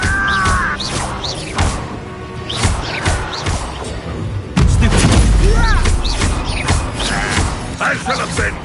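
Incendio fire spells in Hogwarts Legacy burst with repeated heavy booms, crashes and whooshing blasts amid loud combat effects, with a rumbling surge near the middle and voices shouting between the impacts.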